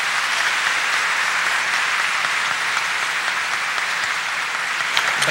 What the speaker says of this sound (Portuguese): peço uma salva de palmas ao nosso coral